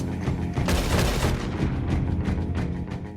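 A cannon fires in the Red Dead Online video game, one heavy close boom followed by a string of quicker, lighter gunshot-like blasts.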